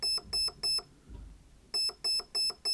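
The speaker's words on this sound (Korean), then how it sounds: "프리코킹 모드가 삐삐삐삐 세 번 울리죠" A PERUN ETU trigger circuit in a G&G electric airsoft gun beeps sharply in a quick group of three, then after a short pause gives another run of four identical electronic tones.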